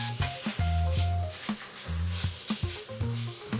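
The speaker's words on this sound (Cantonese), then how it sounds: "稍微落多少少油煎香佢" Marinated pork slices frying in a little oil in a hot wok, a steady loud sizzle broken by repeated scrapes and stirring knocks of the spatula.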